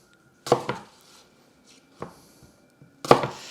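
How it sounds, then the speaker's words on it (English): Knife chopping onions into quarters on a board, three sharp close thuds spaced out in a quiet kitchen, with no talking. "just quarter your onions, because you like to have those big pieces of onion"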